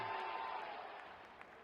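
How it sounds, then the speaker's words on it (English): A distant, steady crowd roar from a cricket video game, RC20, as a six wins the match, faint and continuous, slowly easing off. "Crowd going mad here."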